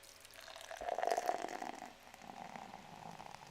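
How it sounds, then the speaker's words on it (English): Canned beer pours into a Spider-Man pint glass, a close, fizzing liquid stream that swells over about a second, then settles into softer foamy trickling. "It's going to be the theatrics of a definite 5-minute pour."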